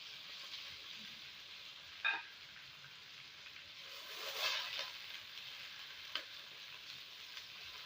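Whole cinnamon pieces, cloves and star anise fry in hot oil in a pan with a soft, steady sizzle, punctuated by a few sharp clinks and a brief stirring swell.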